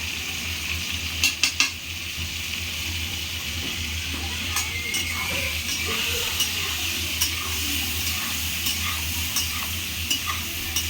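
Pointed gourd (potol) seasoned with salt and turmeric fries in a pan with a continuous close sizzle, while a utensil stirs and clinks against the pan a few times early on and then more sparsely.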